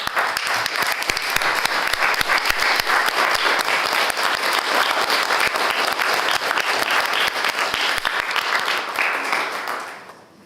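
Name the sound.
applause in state senate chamber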